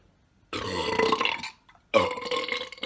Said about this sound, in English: this is gonna be like giganto burp for sure